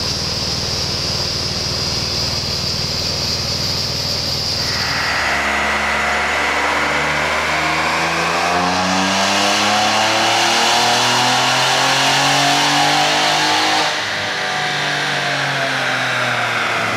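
A Cadillac ATS-V engine revs hard and loud, its pitch climbing through rising harmonic sweeps, then easing off briefly before building again, with no talking over it.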